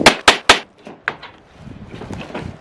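A hammer strikes during a hog trap rebuild: three quick, sharp blows close together, then a couple of fainter knocks, followed by low rustling.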